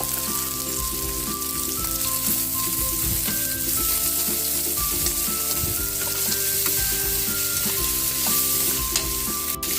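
Onions sizzling as they fry in a pan with garlic for Bicol express, a steady loud crackling sizzle with occasional stirring clinks, continuous and close, without talking.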